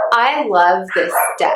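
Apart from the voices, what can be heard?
dogs barking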